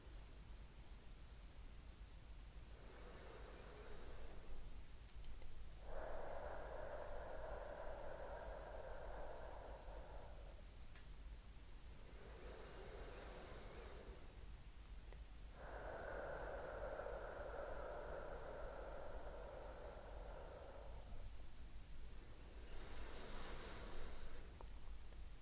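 Slow breaths pushed out through the mouth, a woman showing a relaxing breathing technique for labour, come as soft, airy rushes several seconds long, alternating with shorter quiet intakes, over a steady background hiss.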